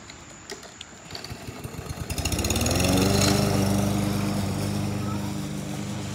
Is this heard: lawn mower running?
yes